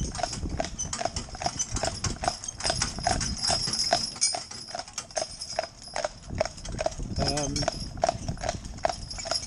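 Steady, evenly spaced hoofbeats of a large Shire stallion being driven on reins clop on a hard surface at a walking pace, with voices and a constant background hum underneath.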